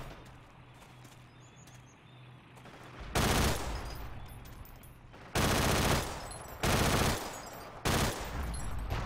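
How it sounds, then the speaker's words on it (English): Bursts of loud automatic gunfire in Forgotten Hope 2 break out after a quieter stretch of ambient outdoor sound, coming in several long sustained volleys with short pauses between. "Okay, that was some horrible shooting."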